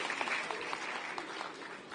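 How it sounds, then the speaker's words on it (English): An audience claps together at a live talk, a dense, steady burst of applause that stays even in loudness from start to finish. "Give a clap."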